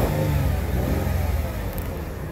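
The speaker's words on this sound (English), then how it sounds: "But the truck is running now." A 2004 Mercedes ML 350 engine runs steadily close by, a loud, continuous low rumble with slight revving swells and no voices.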